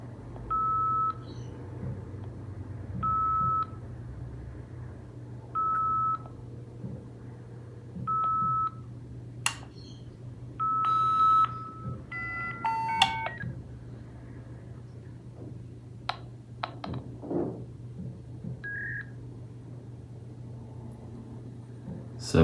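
A NetComm Roadster V.92 modem dials out with a steady series of DTMF tone bursts, followed by scattered beeps and clicks over a faint background hum.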